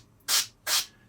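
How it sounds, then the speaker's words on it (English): Two short, light bursts of paint spray hissing onto a miniature sword, each about a quarter second long with a quiet pause between, close and soft, then a third burst just starting at the end. "if you want to see how much I'm spraying on, it's literally just a little bit"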